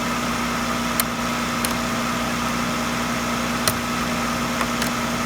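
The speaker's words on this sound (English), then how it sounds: "The engine that you hear running now should stop." A Jeep JK Wrangler engine idles steadily with a low, constant hum and faint vibration, joined by a few small ticks and clicks.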